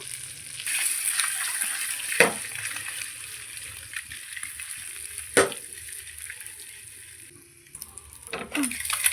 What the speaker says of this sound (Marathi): अर्धा चमच लाल तिखट ॲड करूया आणि सगळं व्यवस्थित आपल्याला भाजून घ्यायचं